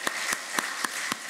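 Slow, sparse hand claps ring out in a church, five sharp separate claps at an even pace, moderately quiet, with no talking.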